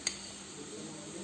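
Crushed chili and turmeric sautéing in a pan while cooking a tuna dry roast, giving a soft steady sizzle with a light stirring scrape and one brief clink near the start.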